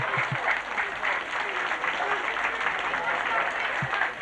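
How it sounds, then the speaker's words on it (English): Crowd at a 1991 St Patrick's Day parade in Scariff, County Clare, Ireland applauds for Ger Sweeney in a fairly faint, continuous patter of clapping, with a few voices briefly cutting through. "would you like to put your hands together for a warm Scariff round of applause for Ger Sweeney"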